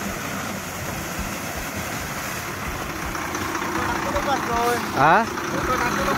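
A Tirwada bus idles with a low steady engine rumble on a flooded road in heavy Konkan rain, while someone speaks close by and a brief horn-like tonal sweep rises near the end.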